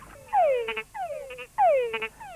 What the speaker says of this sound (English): Frogs can be very noisy.